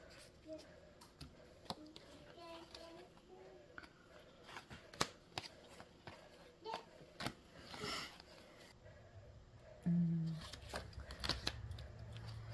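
Tarot cards being shuffled and handled by hand, a series of quiet, brief papery riffles and clicks at close range, with a low thump and soft murmuring near the end.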